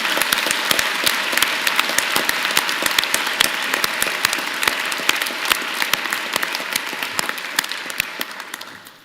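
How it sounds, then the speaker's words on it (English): A vigorous round of applause fills a university convocation hall, dense sustained clapping from a large crowd that holds steady for several seconds before tapering off at the end. "join me and the platform party in thanking them with a vigorous round of applause"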